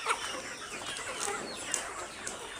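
Layer hens being transferred to new cages give soft, scattered clucks and brief squawks, faint and somewhat distant over a hissy background, with no voices.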